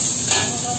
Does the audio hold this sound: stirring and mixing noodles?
yes